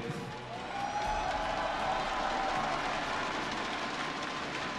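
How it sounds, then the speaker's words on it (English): A crowd cheering and applauding at the Hearthstone World Championship final, a dense continuous wash of clapping and cheers filling a large event hall at moderate level, with no break. "Thanks for cheering, all of you."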